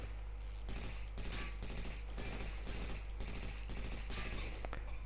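Rapid bursts of automatic gunfire from the tactical shooter video game Takedown: Red Sabre, repeated volleys in a steady rhythm over a constant low background rumble, with no talking.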